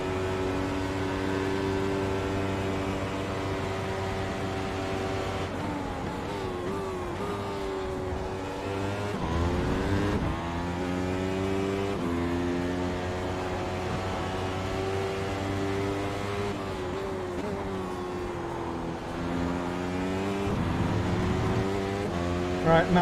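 A Formula 1 car engine in the iRacing sim at Road America drones steadily, its harmonic pitch sweeping down and back up as the throttle is eased through a fast right-hander, continuous and close.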